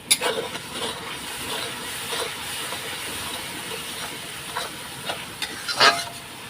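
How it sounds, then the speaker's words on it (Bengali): Spices with turmeric frying in a pan for a Bengali mutton curry, a soft continuous sizzle with scattered scraping stir strokes and a sharper clatter near the end, no voices. "শুধু মশলাটা আমি কষিয়ে নেবো একটু হলুদ দিয়ে"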